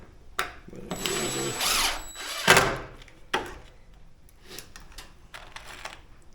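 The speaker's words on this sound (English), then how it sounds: "I figure pre-drilling this stuff is kind of hard, this siding" A power drill whirs in a sustained burst with a rising whine while pre-drilling siding, then a short second burst, followed by scattered knocks and taps.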